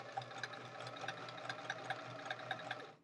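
A sewing machine stitches chain-pieced quilt squares with a fast, even mechanical chatter and regular clicks, running steadily on its own until it stops at the end.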